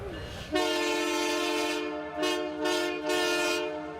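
Holiday train horn sounding as the train passes, a loud sustained multi-tone blast with brief swells and dips over steady rail rumble, no talking.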